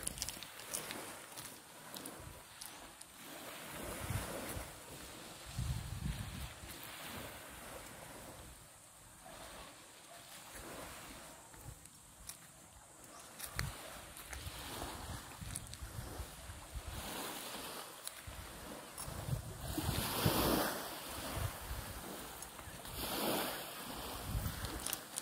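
Sea waves roll in at a beach resort, a long stretch of steady surf with swelling breakers and occasional bursts of wind noise on the microphone, and no speech.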